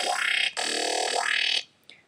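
Massive synth growl patch, without restart via gate: a loud, distorted wobbling bass with sweeping, phasing filter movement in two long surges before cutting off, slightly messy and unclean, no talk.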